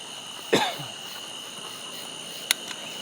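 A single close cough from a runner cuts over a steady background of tree frogs and cicadas trilling at night, followed later by a brief sharp click.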